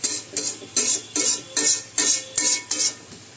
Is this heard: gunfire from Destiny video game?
no